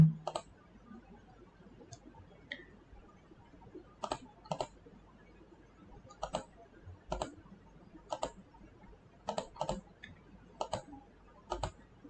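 Sharp, dry mouse clicks sound at a computer, used to draft in CATIA V5 software, coming singly and in quick pairs at irregular intervals against a quiet room.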